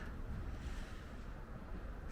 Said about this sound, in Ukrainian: Піднявся, звісно, вітер зараз конкретно.